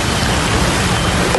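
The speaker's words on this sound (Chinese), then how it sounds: "午后一场大雨，新北市三重淹大水。" Heavy afternoon rain pours down steadily during a downpour that floods streets in Sanchong, New Taipei, a dense, unbroken roar of falling water close to the listener.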